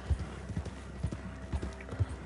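Hooves of a horse clip-clop in Red Dead Redemption 2, a steady walking rhythm of close, thudding beats roughly every half second.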